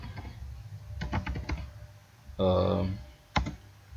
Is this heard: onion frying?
no